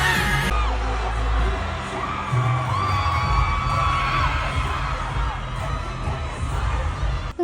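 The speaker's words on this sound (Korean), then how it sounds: "카메라가 멤버 한 명을 잡을 때마다 그쪽 관객석에서 비명이 터져 나온 건데요" A large stadium crowd at a concert in Boston screams and cheers continuously, a dense roar of high-pitched shrieks filling a big space, with music faintly underneath.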